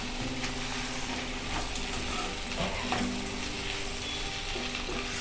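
Sprouted moth beans are stirred with masala in a hot pan, a steady sizzle and frying hiss running throughout with scraping stirs, close and fairly loud, no talking.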